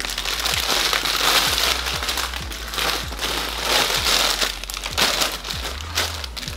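Wig packaging crinkles and crumples while being handled, with bursts of plastic rustling close to the microphone and brief pauses between them.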